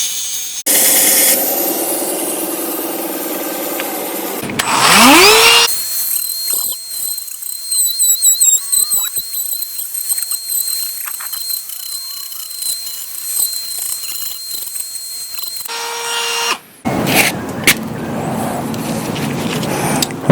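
A power tool cuts an angle into a foam boffer sword, making loud whirring bursts that start and stop. One run winds down quickly, followed by quieter stretches of rubbing and handling noise.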